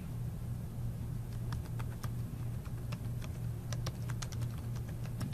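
Keys on a computer keyboard tapped in short, irregular clusters while a new username is entered, light and fairly close over a steady low hum.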